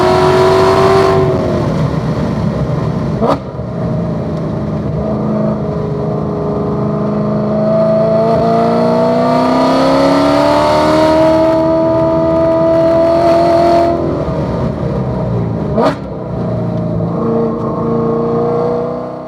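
A race car at full speed through turns 7 to 9 at M1 Concourse, its engine loud and close, pitch rising and falling through the gears with two sharp shift cracks.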